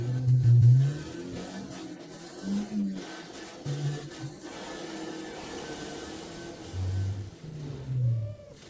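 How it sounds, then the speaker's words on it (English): A BMW E36 318is engine pulls hard in third gear during a gymkhana drift, its mid-pitched drone rising and falling in surges with tire and wind noise, heard from onboard the car with no talk. "Heavy on the handbrake, downshift to second, a little drift, and we shoot onto the straight"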